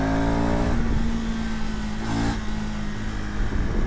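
A 2025 KTM ADV 390 X Plus motorcycle engine revs steadily and loudly up toward the high end, a continuous close drone with a brief rise in pitch midway and no talking.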